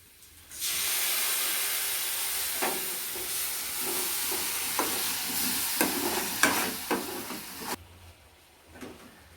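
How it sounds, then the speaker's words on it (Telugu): Turmeric, chili powder and tomato paste fry in a hot pan with a steady, close sizzle, broken by irregular scraping strokes of stirring that build toward the end before the sizzle cuts off. "పచ్చి వాసన పోయిందాకా వేయించుకోవాలి"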